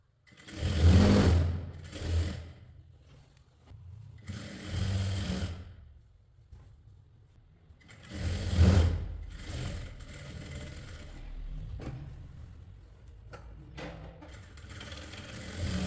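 Sewing machine stitching together the side seams of a short kurti, heard as several separate bursts of whirring motor noise with quiet gaps between the runs.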